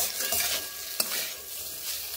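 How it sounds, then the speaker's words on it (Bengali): Cauliflower is stirred and fried in a pan: a loud, continuous sizzle with the scrape of stirring and one sharp utensil tap partway through, with no voices. "আরও কয়েক সেকেন্ড এইভাবে নেড়ে ভেজে নিচ্ছি।"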